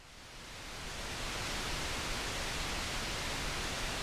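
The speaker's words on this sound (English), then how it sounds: "And let's paste that same one, but let's switch to brown noise." Synthesized brown noise layered to build a rain sound: a steady, dense hiss-like wash that fades up over the first second, then holds at an even, soft level with no other sounds.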